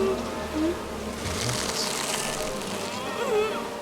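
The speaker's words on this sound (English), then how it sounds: "Real bees in his mouth." Bees from the Candyman horror film buzz in a dense, steady drone that swells and fades briefly, with low background sound beneath.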